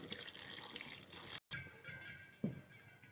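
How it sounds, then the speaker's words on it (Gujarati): Water splashes into a pot of Surti papdi (flat valor bean) curry that already holds oil and garlic paste. The pour is close, short and gushing, with a brief break partway through. "હવે મિત્રો પાણી નાખી દઈએ આમાં"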